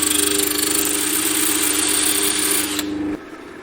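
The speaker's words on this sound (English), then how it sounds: "So I've put this in my drill like this." A power drill whirs loudly and continuously nearby while working on a wooden cutting board, then slows and winds down near the end.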